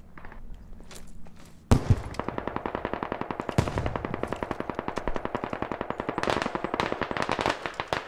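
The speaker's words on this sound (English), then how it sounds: "I hear shots, I don't see him though." Rapid automatic gunfire in the military shooter Squad, with a sharp report followed by a long steady string of close, echoing shots that continues for several seconds, with a few heavier bursts toward the end.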